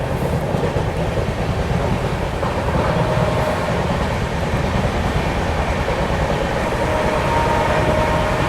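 The Bhopal Shatabdi Express runs at speed while other trains cross past it. A steady, loud rush of wheels and rail noise carries on without a break and fills the whole stretch.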